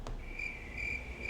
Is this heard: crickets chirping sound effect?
yes